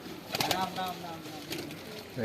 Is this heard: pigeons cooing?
yes